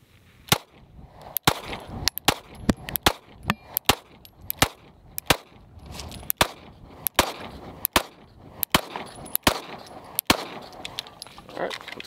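A Springfield Armory Hellcat handgun fitted with an extended magazine fires a long string of sharp, loud shots at an outdoor range, spaced irregularly at roughly half-second to one-second intervals, with faint rattling between reports.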